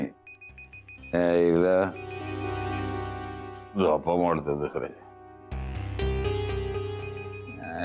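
A phone rings indoors in a Marathi TV drama scene, its electronic trill repeating near the start and returning strongly toward the end, with people talking over and between the rings.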